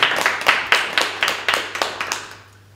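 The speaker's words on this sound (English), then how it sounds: "Round of applause," Sparse clapping from a small audience at an LGBTQ+ literature festival poetry reading: a handful of distinct, evenly spaced claps that fade out over a few seconds.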